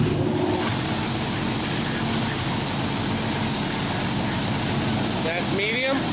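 A DoAll Zephyr 36-inch high-speed vertical band saw runs in its medium gear range, giving a steady, loud, broadband mechanical hum and whir throughout with no pauses.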